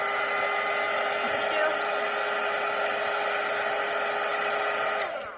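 A hair dryer blowing steadily and close to dry a watercolour painting of a Christmas cottage, a constant loud whir that cuts off abruptly at the end.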